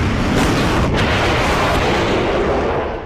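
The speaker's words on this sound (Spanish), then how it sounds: "Una fuerte explosión, un golpe muy fuerte en todo el cuerpo" Loud explosion as a military aircraft is hit in air combat over the Falklands/Malvinas war, a dense sustained roar filling the whole clip with a sharp crack near the start and a steady rumbling wash throughout, no speech.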